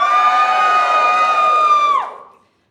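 A live comedy show crowd in Wellington cheers loudly with a long, sustained whooping cry that holds steady, then falls off sharply and fades into silence.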